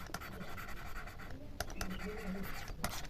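Steady scratching strokes of someone writing on a board during a current affairs class, close and continuous with brief pauses between strokes.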